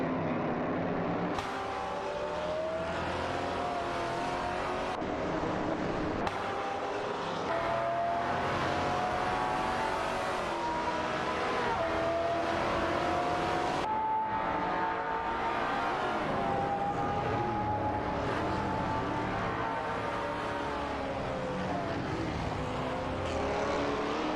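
Race cars in an AI racing video game accelerate out of a corner, their engines whining and rising steadily in pitch, layered and continuous with no talk.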